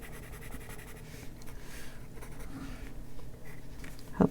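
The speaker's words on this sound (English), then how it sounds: "This is a scratchier pencil." Scratchy colored pencil shading across a large sheet of paper in an adult coloring book, a steady close rubbing scratch with a brief louder stroke at the end.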